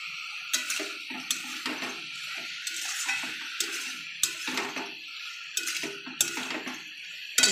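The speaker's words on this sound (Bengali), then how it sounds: "চাপাটা খুলে একটু নেড়ে দেবো।" A spoon stirs jhinge aloo posto curry in a pan once the lid is off, making repeated light scraping clinks in a steady rhythm with soft sizzling beneath, close and unaccompanied by talk.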